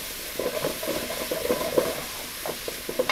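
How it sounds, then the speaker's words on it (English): Chopped onions sweating gently in olive oil for risotto, giving a soft, steady sizzle with light stirring scrapes that come and go in a busy, close kitchen texture, with no talking. "we're just going to sweat them off in the olive oil"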